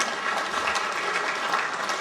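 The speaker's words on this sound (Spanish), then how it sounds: "Aplauso para ellos." Applause for a local follow-up committee at an agreement-signing event with the Municipality of Oaxaca de Juárez, a dense, even wash of many hands clapping for about two seconds, loud and close.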